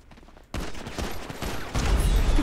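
Gunfire in GTA 5 roleplay erupts abruptly after a quiet moment, with a loud, dense burst of shots continuing to the end.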